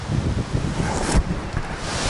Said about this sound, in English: It's a bit windy today, but not unpleasant.